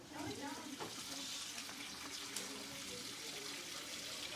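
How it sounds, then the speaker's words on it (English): Tap water runs steadily into a film developing tank for a pre-rinse, a continuous splashing hiss that stays fairly even throughout at close range. "when we pre-rinse, we just fill it up with water"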